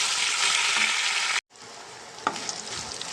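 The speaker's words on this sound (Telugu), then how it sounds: "మనం వేసిన తాలింపు అయితే బాగా ఫ్రై అయింది కదండి" Loud, steady sizzling of spice tempering with urad dal frying in hot oil, cutting out briefly, then resuming with a few sharp crackles and pops.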